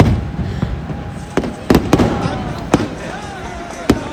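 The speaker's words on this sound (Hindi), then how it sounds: "आतिशबाजी यानी कि यहाँ पे पटाखे बजने थे।" Fireworks and firecrackers go off in Amritsar with a string of sharp, loud bangs at irregular intervals, some close together, over a murmuring background.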